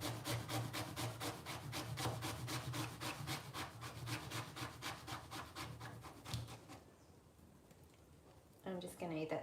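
Vegetables for dumplings are finely grated in fast, steady rasping strokes, close and loud for several seconds, then stop, followed by a brief voice.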